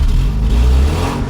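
Naturally aspirated 1984 Porsche 944 engine revs loudly and close, a brief, rich, rising throttle blip with a low growl, alone without speech.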